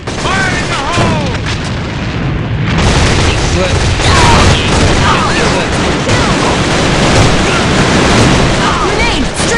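Loud grenade blasts and gunfire fill a first-person shooter battle, with dense crackling shots throughout and a heavy boom around the midpoint, over chaotic game noise.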